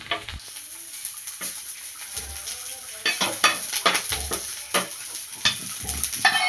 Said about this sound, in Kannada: ಸ್ವಲ್ಪ ಫ್ರೈ ಆದಮೇಲೆ ಆಯಿಲ್ ಹಾಕಿ ಫ್ರೈ ಮಾಡ್ಕೊಳ್ಳಿ